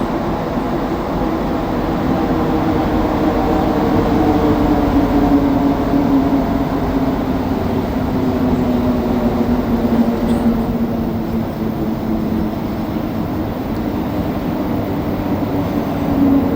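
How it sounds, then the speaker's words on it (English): Steady rumble of a Montreal metro AZUR (MPM-10) train in motion on the Orange Line, with a continuous low drone and rising and falling motor whine, heard from inside the car. "the AZUR trains, the MPM 10s, the ones that we're on right now"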